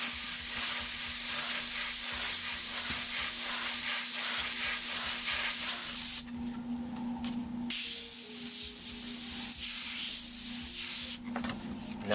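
An airbrush sprays red oxide paint through a flame stencil, a close, steady hiss that cuts off briefly midway, resumes, then stops again near the end.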